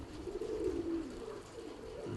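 Pigeons coo in low, rolling phrases at a pigeon loft, one soft continuous call swelling and fading close by with no talk.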